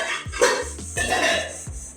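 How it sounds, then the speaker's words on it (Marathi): Metal pot and lid set down over chicken biryani to seal it for dum cooking in a home kitchen, giving a few close clanks and scrapes of cookware spaced about half a second apart, with no talk. "त्याच्यावरती मी पातेले ठेवले, त्याच्यावरती मी झाकण लावले."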